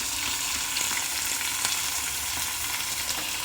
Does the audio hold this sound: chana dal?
yes